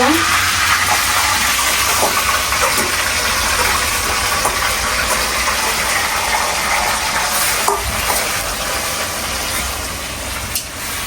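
A ground spice paste fries in a hot pan with a loud, continuous sizzle, broken only by faint scrapes of stirring.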